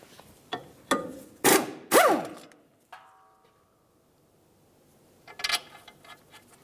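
Ratchet turning out two 15mm bolts on a front brake caliper bracket of a 2010-2013 Ford Transit Connect, heard as several sharp metallic clicks and bursts, fairly close, followed by a brief clink and quiet.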